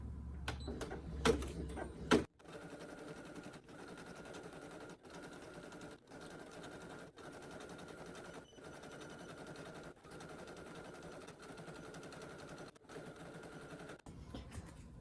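An embroidery machine stitches numbers onto a needle minder applique, a fast, even mechanical chatter of needle strokes running continuously, briefly interrupted by short pauses, preceded by a few louder clunks.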